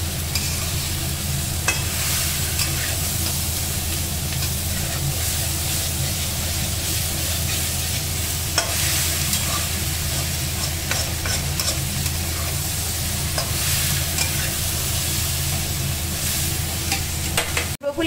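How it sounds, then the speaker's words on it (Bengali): Broccoli stir-fried with spices in a home kitchen, tossed up and down in the pan, gives a steady, close sizzle with scraping stirs and occasional clinks, continuous and without talk. "ভালো করে ওপর নিচ করে কষিয়ে নিচ্ছে, যাতে মশলাটা প্রত্যেকটা ব্রোকলিতে ভালো করে ঢুকে যায়"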